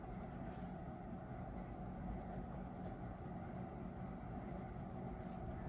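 Budget Indra watercolor pencil scratching steadily across paper while coloring, a continuous close dry rasp without pauses and no talking.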